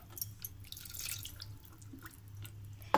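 Water is poured over mutton in a cooking pot, giving soft splashing and dripping sounds that are faint and close, with no one talking.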